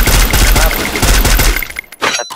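Rapid gunfire bursts from a Free Fire match, loud and dense, fading to a brief lull before a final short crackle of shots near the end.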